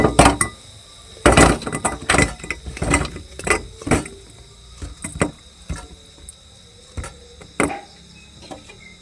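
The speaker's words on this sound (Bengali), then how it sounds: "এখন গ্যাসটাকে আমি অফ করে নেব আর গজাগুলোকে অন্য গামলার মধ্যে ঢেলে নেব।" Fried sugar-coated gaja sweets tipped from the pan into another bowl, giving a run of crisp clinks and clattering taps, loud at first and then thinning into scattered lighter knocks.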